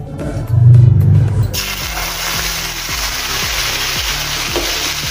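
Curd poured into hot oil in a pan, a sudden loud sizzle bursting in and then holding as a steady broadband hiss, with a low rumble and faint rhythmic scraping beneath.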